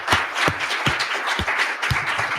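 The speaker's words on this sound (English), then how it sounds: "Please all join me in a small round of applause for our speakers." A small group claps slowly and unevenly for speakers at the close of a UN and civil society ceremony, with a handful of distinct, fairly close claps spaced a fraction of a second apart.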